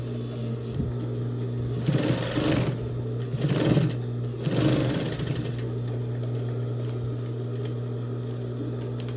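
A sewing machine stitches fabric for a box-style pencil case, running in three short whirring bursts over a steady background hum, close and alone with no talking.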